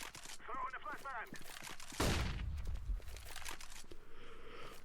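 CS:GO gunfire: a burst of rapid shots and a heavy crack at about two seconds with a lingering boom, with someone talking over much of it.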